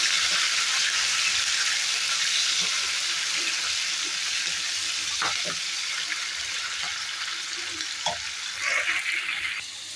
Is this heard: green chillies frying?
yes